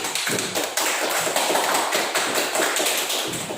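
Classroom audience clapping for a presentation group, a dense, continuous burst of applause from many hands, loud and close throughout, with no talk over it.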